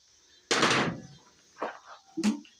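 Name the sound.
oil pan being pried off a 360 engine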